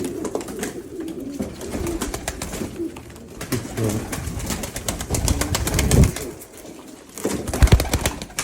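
Siirt pigeons coo steadily up close, with overlapping soft calls, occasional wing flutters and rustling running through the whole stretch.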